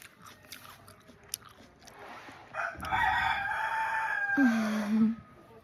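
A rooster crows nearby, a long drawn-out call rising and then falling, with faint background rustling before it.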